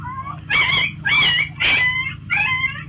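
A young puppy, just released from a snake's grip, gives four sharp, high yelping cries in quick succession, loud and close, with a low steady hum underneath.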